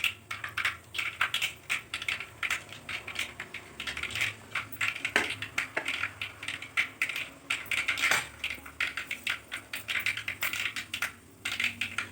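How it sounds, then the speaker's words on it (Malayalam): Mustard seeds and fenugreek splutter and pop in hot coconut oil in a pan, a dense run of sharp irregular crackles and small bursts lasting throughout, close and moderately loud. "വെളിച്ചെണ്ണ നന്നായിട്ട് ചൂടായി വരുന്നുണ്ട്. അതിലേക്ക് കടുക് ഇട്ട് കൊടുക്കുക."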